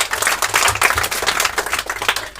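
A crowd at a Kikuyu-language gathering claps hands in steady, fairly close applause, dense overlapping claps for a couple of seconds with no speech over them.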